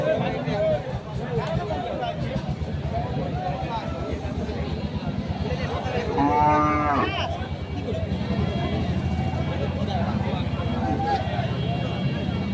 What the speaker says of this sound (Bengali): এখানেও একটি গরু দেখছিলাম বাছুরটি হচ্ছে বড় বাছুর